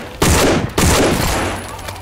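Two loud booming shots from a large gun in the zombie game No More Room in Hell, fired about half a second apart, each trailing off into a rumbling echo.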